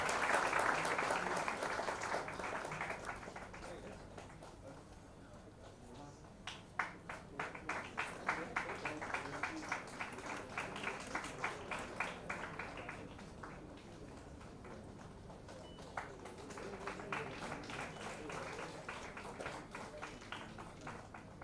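An audience at a large annual public event claps in scattered, uneven bursts that rise and fall, with a murmur of voices in the background.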